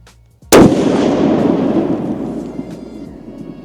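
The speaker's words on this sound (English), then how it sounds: "That was a crap shot, I can feel that." A single loud 28 Nosler long-range rifle shot, fired with a 90.6-grain powder charge, cracks sharply, then rolls away in a long echoing rumble across open ground.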